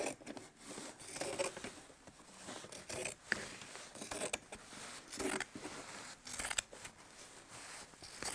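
Scissors snip through quilt fabric in a run of short, crisp cuts with small pauses, quiet and close, with no talk.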